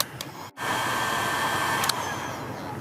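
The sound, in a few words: heat gun shrinking heat shrink over butt connector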